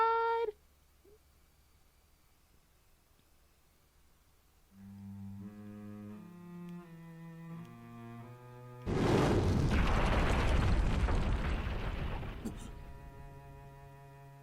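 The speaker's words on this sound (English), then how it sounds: "My head was being knocked around by some deafening explosion" A loud explosion sound effect from the game Cafe Enchante bursts in after a quiet stretch of soft synth tones, a broad roaring blast that fades slowly over several seconds.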